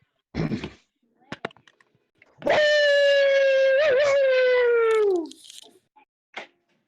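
A man imitates a wolf howl with one loud, sustained tone lasting nearly three seconds. It wavers briefly in the middle and slides down at the end, framed by a few short vocal noises.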